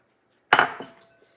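Steamed broccoli tipped into a casserole mixture in a baking dish gives one sharp clink and clatter against the dish, trailing off quickly in a quiet kitchen.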